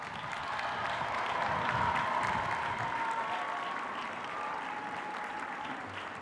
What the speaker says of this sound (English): Now, everybody, applause.